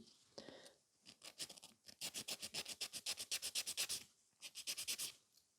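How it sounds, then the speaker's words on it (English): Hand filing of ragged gel nail edges: a rapid run of short rhythmic rasping strokes, close and crisp, with brief pauses between bursts and no talking. "So I'm just filing the raggy edges off."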